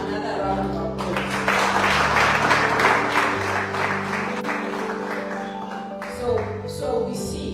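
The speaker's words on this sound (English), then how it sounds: "Let's give him another round of applause." A meeting audience breaks into applause: a dense burst of clapping swells after the first second, then thins toward the end, with a voice briefly heard around it.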